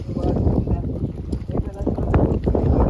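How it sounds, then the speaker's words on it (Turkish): Wind blowing steadily outdoors while tomato paste is being made, a constant broadband rush with gusty swells buffeting the microphone throughout. "Allah'tan rüzgar var. Rüzgar olmasa hiç çekilecek iş değil."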